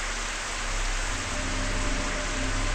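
Steady rain ambience from an RPG Maker MV game, a dense even hiss of falling rain with a low hum beneath, constant and unbroken throughout with no voices.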